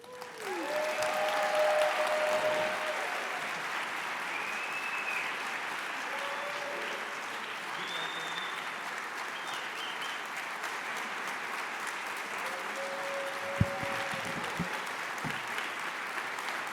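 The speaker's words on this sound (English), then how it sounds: "Keep giving her a round of applause" A large audience at an awards gala gives sustained applause, a steady wash of dense clapping with a few cheers rising over it, holding evenly from start to finish.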